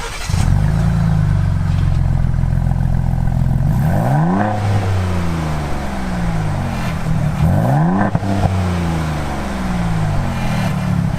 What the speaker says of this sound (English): But listen to the engine.